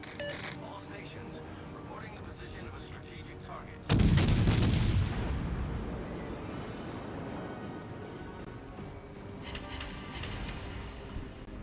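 Naval artillery fires in the World of Warships video game, a sudden loud boom about four seconds in followed by a long rumbling decay over quieter game sounds, with a player talking throughout.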